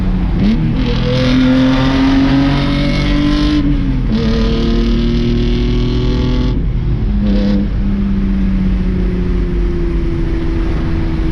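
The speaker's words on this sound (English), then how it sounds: "It's straight pipe with resonators, no muffler. You wanna hear it a little bit?" A BMW E30 with a swapped S50 engine and straight-pipe exhaust with resonators and no muffler revs loudly up and down, its deep harmonic engine note rising and falling in close, continuous bursts.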